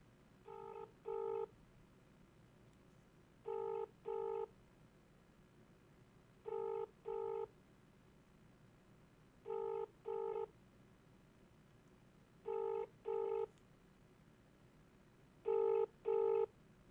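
A phone call ringing out: six evenly spaced double-burst ring tones, each pair of short bright pulses repeating about every three seconds over a faint low hum, with no voices.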